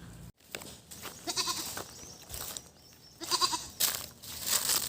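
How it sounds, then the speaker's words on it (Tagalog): A goat on a rural provincial farm bleats in several wavering calls, fairly close, with rustling and crunching handling noises around it. "Ayan kambing ko guys."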